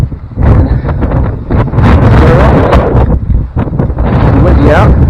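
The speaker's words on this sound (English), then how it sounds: "And windy out." Strong wind buffets the microphone outdoors on a mountain property with a tiny cabin, roaring loud and gusty throughout with brief lulls, a voice briefly audible beneath it.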